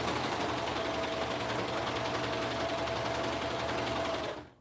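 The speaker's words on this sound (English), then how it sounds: "Say you just got done serging or cover stitch on here, right?" A Juki MO1000 serger runs a quick sample seam with a continuous, loud mechanical whir that stops abruptly at the end.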